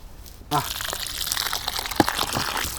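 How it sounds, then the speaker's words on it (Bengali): Sweet potatoes are rinsed in water, with splashing, sloshing and the rub of tubers in a vessel starting abruptly and continuing close by, while someone speaks over it. "রাঙালু ধুচ্ছি"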